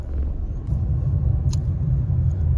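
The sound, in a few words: road traffic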